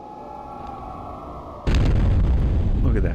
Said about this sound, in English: Look at that spectacular explosion.